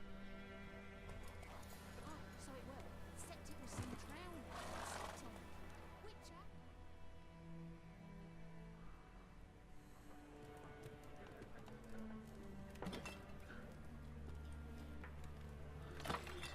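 Horses in The Witcher 3 video game neigh and clop their hooves at a moderate distance, with a snort among game music and ambience while people talk over it.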